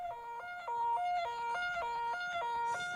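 A siren sound effect plays during a live stream, a steady two-tone wail that flips between high and low pitch about every half second, clear and unbroken.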